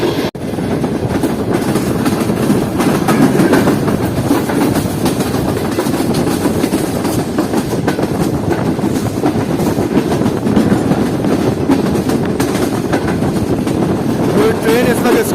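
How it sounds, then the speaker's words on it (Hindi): The Karakoram Express runs through Tigrod Junction station without stopping, a loud, unbroken rumble with rapid wheel clatter over the rails for the whole stretch. "ट्रेन इस वक्त स्किप कर रही है टिगरोड जंक्शन रेलवे स्टेशन को।"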